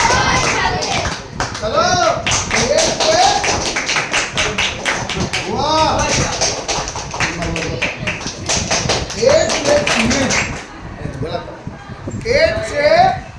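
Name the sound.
children clapping while counting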